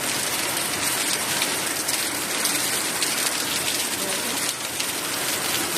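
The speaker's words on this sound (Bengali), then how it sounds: "এখন মুসুল ধারা বৃষ্টি হচ্ছে" Heavy rain pours down in a dense, steady hiss, with drops drumming on surfaces nearby.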